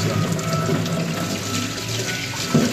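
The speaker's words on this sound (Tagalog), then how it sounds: "Hugasan lang natin." Tap water runs steadily into a sink while chicken feet are washed under it, a continuous close splashing hiss with no talking.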